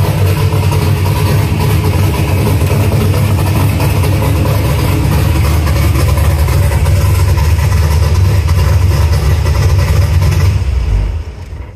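A loud LS1 V8 swapped into a Nissan S14 competition car idles roughly with an aggressive lumpy chop, a close, deep and steady rumble that drops away abruptly at the very end.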